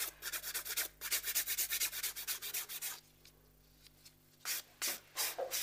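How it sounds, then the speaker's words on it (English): An acrylic nail edge is filed with quick rhythmic strokes, a series of soft close scratchy rubs, a pause, then a few more strokes, with no talking. "And when you're filing"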